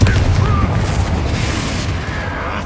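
A Confringo blasting spell explodes in Hogwarts Legacy, a loud sustained booming rumble with heavy low end that fills the whole moment, game sounds layered over it.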